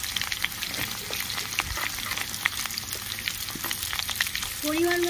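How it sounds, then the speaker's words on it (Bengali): Chopped tomatoes hit hot oil in a pan for a vegetarian potato and pointed gourd curry, a steady sizzle with light stirring clinks, close and unbroken. "টমেটো আমি কেটে রেখেছিলাম দিয়ে দিচ্ছি।"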